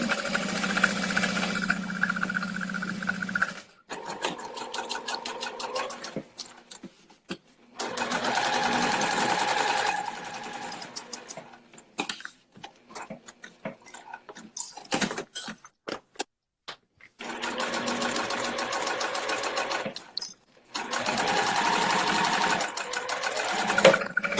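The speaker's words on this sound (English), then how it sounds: "I like to top stitch on the accent fabric." A home sewing machine top stitches accent fabric on a peek-a-boo beauty bag, running in several steady bursts of a few seconds each, separated by quieter pauses with clicks and handling noises.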